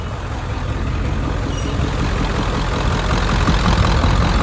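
A 7.3 Powerstroke diesel engine runs steadily at idle with a loud, close, low-pitched clatter and rumble that holds even throughout, with no voices.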